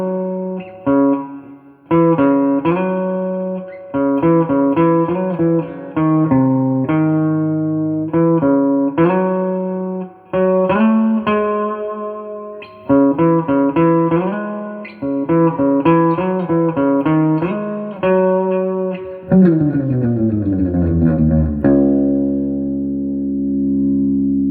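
An electric guitar played through a pawn shop amp with reverb works through a brisk, choppy spy theme in repeated bursts of chords and notes, ending on a long ringing chord.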